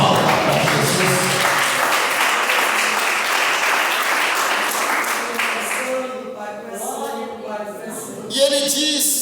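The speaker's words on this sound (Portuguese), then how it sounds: "A igreja pode bater as palmas para Jesus." A church congregation clapping together, sustained loud applause for about six seconds that then thins into scattered claps as a voice and organ-like tones come through.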